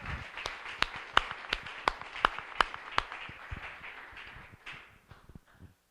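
A church congregation claps in a series of sharp, rhythmic hand claps, loud at first and then thinning into scattered, fading applause.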